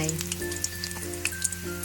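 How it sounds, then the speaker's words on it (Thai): Banana slices frying in hot oil over medium heat crackle with a light, continuous sizzle and scattered pops, close by, over a faint steady background tone. "พอน้ำมันร้อนได้ที่ก็เอากล้วยหย่อนลงไปเลยนะคะ"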